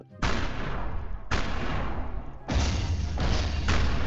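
Heavy gunfire in a video game minigame: about five loud, booming broadband blasts, each ringing out before the next, with a quicker pair near the end.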